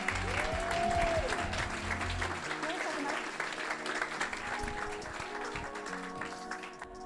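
An audience claps for a 14-year-old girl, Kenzie, as she is brought onto the stage at a real estate agents' event, with sustained dense clapping that gradually thins out.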